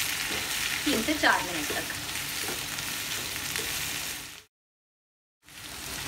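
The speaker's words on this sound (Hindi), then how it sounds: "तो हम इसको सौते करते हैं" Vegetables sauté in a pan for pasta, giving a loud, steady sizzle with brief talk over it. The sizzle cuts out completely for about a second, then resumes.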